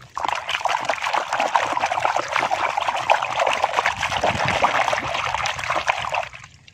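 Tap water runs steadily and splashes while Ultraman toys are washed, a close, even trickling rush that starts abruptly and stops near the end, with no talking over it.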